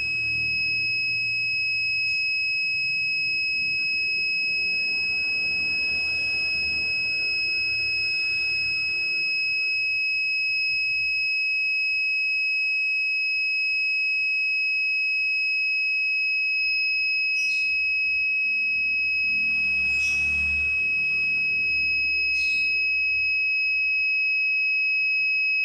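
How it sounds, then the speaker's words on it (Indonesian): A microcontroller room temperature and humidity detector's buzzer sounds a steady, piercing high electronic tone that holds unbroken throughout, with occasional soft rustles and clicks nearby. "Jika kelembapannya 89, maka buzzernya akan menyala."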